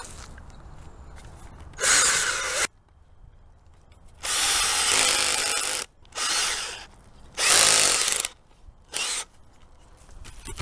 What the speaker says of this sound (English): Hopefully this will be better drilling than the last one.